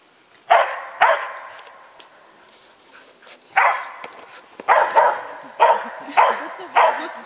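A dog barks during a mentality assessment's surprise test in a dog training setting, about seven loud, close barks coming singly and in quick pairs with short pauses between them.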